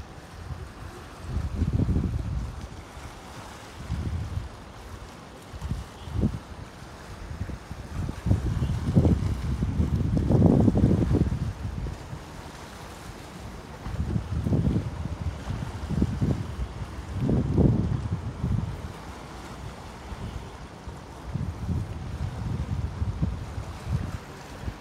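Strong tropical storm winds under the No. 3 signal batter the Heng Fa Chuen waterfront promenade in Hong Kong, rumbling against the microphone in loud surging gusts that rise and fall repeatedly, with no voices.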